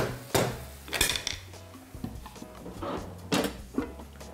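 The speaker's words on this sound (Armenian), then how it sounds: "Այժմ ծածկում ենք կափարիչով" A metal lid is set onto a pot of hemp-stuffed dolma, with a few sharp clanks and knocks of cookware up close, separated by quieter gaps with a low hum beneath.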